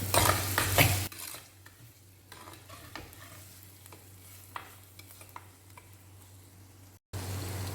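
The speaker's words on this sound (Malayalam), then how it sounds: "സവോള ഇട്ട് കൊടുക്കാം ഇത് നന്നായിട്ട് എണ്ണയിൽ വഴറ്റിയെടുക്കാം" Onions sauté in hot oil for a squid fry. A loud sizzle opens and returns at the end, with a quieter stretch of scraping stirring and light utensil clicks in between, close by and without talking.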